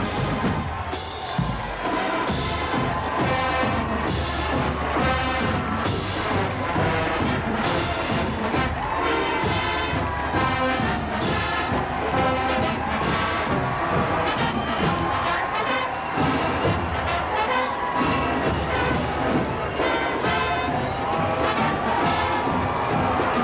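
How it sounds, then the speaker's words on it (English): A parade crowd cheers as the USC Trojan Marching Band passes at the Tournament of Roses Parade, the steady roar of voices mixed with loud band music that fills the whole clip. "You listen to the cheers that come up from the crowd when this band gets right beside us"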